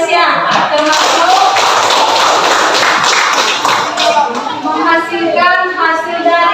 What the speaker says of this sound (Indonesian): Tepuk tangan dulu untuk Indonesia